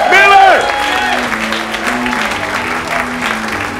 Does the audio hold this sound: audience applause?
yes